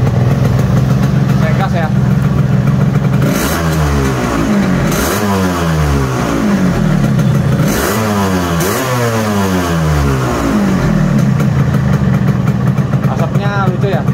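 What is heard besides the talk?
Yamaha RX King motorcycle engine idling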